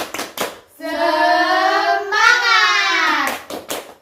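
Primary-school children perform a 'tepuk semangat' clapping chant: a quick burst of claps, then a long, loud, drawn-out group shout in unison, followed by more clapping at the end.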